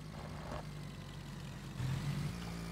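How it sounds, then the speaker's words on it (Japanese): A car engine approaches in the battle royale shooter PUBG, a faint mid-pitched hum that swells and rises in pitch partway through, with no talk over it. "おぉ、 車の音が"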